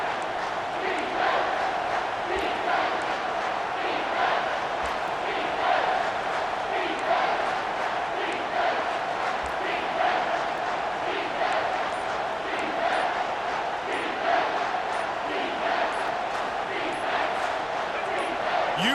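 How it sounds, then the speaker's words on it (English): Steady roar of a stadium crowd cheering for the defense in the red zone in EA Sports College Football 25, a loud sustained wall of voices with a droning tone under a commentator talking over it. "The crowd getting behind this defense as they try to get a stop in the red zone."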